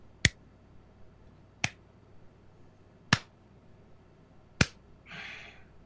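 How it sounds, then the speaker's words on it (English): Four single, sharp claps spaced slowly and evenly, about a second and a half apart, fairly quiet, followed by a brief soft breathy noise. "you just all of a sudden hear like a slow clap behind you"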